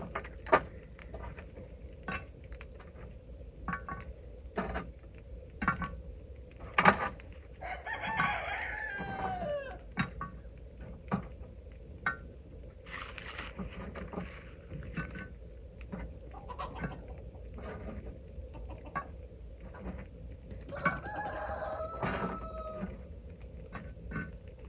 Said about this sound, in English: Can y'all hear all them chickens?